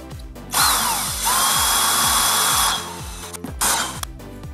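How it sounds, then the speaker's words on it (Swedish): A power drill whirs loudly in long bursts, starting and stopping several times, its pitch rising and dropping as it bites close by into a waterproof enclosure. "Och det gör vi för att inte borren ska sladda runt när vi sen borrar."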